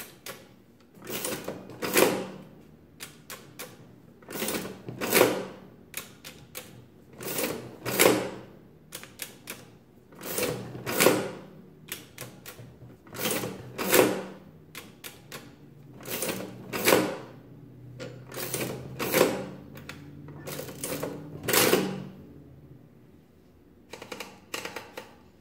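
A Corona portable adding machine under repair runs through repeated cycles, each a quick cluster of mechanical clacks and ratchets as it prints, evenly spaced over about twenty-five seconds, close and moderately loud.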